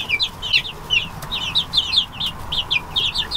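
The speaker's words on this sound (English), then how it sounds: "And another rooster right here." Young chickens in a farm coop, including a cockerel with a developing red comb, give rapid, repeated high peeping clucks in quick bursts. The calls are close and continuous over a faint background hiss.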